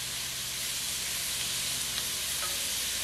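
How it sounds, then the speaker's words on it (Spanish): Pork pieces fry in a hot pan, giving a steady loud sizzle and hiss that fills the whole short stretch, with a few faint clicks and pops inside it. "Entonces vamos a sofreírla bien."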